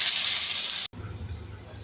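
Onions and curry leaves dropped into hot oil with cumin, a loud bright sizzle that cuts off abruptly, then a softer continuing fry.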